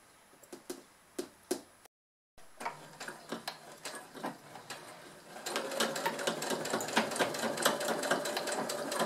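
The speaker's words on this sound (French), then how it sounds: "je peux rabaisser mon pied et je continue donc ma couture" A domestic sewing machine stitches the hem of an apron made from old denim jeans, first in short bursts of rapid ticking, then a brief pause, then a longer steady run of quick stitching.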